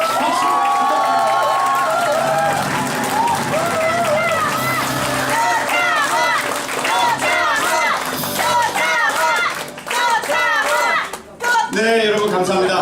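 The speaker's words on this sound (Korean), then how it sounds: "큰 함성과 박수!" A crowd at a Korean election campaign office opening cheers and claps loudly for a candidate, shouts and whoops riding over continuous applause, with voices calling out and a brief dip near the end before the noise swells again.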